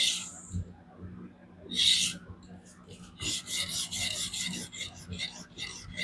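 A DC53 steel Hx Outdoors Rock Apex knife is drawn across an 800 grit diamond stone wetted with Windex. Close, raspy scraping strokes come in short bursts, then in a quicker run of repeated passes.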